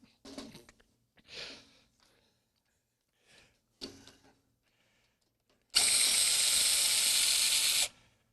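DeWalt drill driving screws into a server rack: a few short, sharp bursts and clatters separated by quiet gaps, then one loud sustained whir of about two seconds that stops abruptly.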